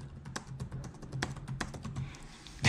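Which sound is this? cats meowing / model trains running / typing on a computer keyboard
typing on a computer keyboard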